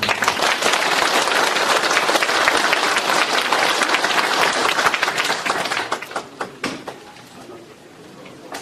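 An audience at a philosophy lecture forum in Korea claps loudly and steadily as an emeritus professor is introduced, the dense applause thinning into scattered individual claps toward the end.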